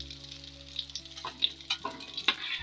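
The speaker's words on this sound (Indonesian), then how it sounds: "telurnya sudah selesai saya goreng kembali" Eggs frying in hot oil for Indonesian telur geprek, a steady close crackling sizzle with scattered pops and spatters, heard alone.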